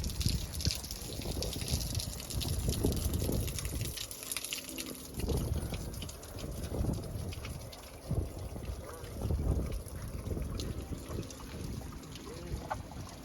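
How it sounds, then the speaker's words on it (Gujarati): Rain-fed natural streams running near a cave temple, giving a continuous watery rush and trickle mixed with wind and outdoor noise at moderate distance. "વરસાદના કારણે કુદરતી રીતે ઝરણાઓ પણ જવાનું ચાલુ થઈ ગયું છે"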